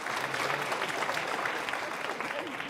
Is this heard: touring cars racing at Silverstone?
no